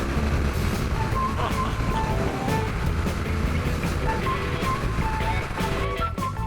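A Honda CBR400RR motorcycle exhaust roars steadily and loudly throughout while riding on an open road, a continuous engine drone with wind and road noise blended in.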